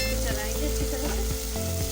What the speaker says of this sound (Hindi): इसको चलाएंगे अच्छी तरह से।